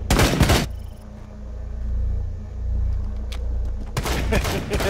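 Rainbow Six Siege gunfire in a Bank team deathmatch: loud bursts of rapid shots open and close the stretch, with a low rumbling game ambience between them.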